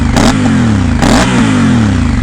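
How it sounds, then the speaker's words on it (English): A Honda Africa Twin motorcycle engine revs loudly up close, rising and falling twice over a steady throbbing idle with mechanical clatter, no voices. "So even if I rev the bike"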